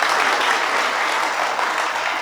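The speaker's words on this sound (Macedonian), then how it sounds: "Спасе, да ми дам аплауз на публика." A studio audience at a television show finale breaks into dense, steady applause, loud and continuous throughout, with no speech over it.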